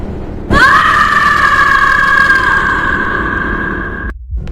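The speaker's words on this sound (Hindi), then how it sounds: "उसकी तेज चीख पूरे कॉरिडोर में गूंज उठी" A woman lets out a single loud, sustained scream in a hospital corridor, high and piercing, holding steady for about three and a half seconds before cutting off abruptly into silence.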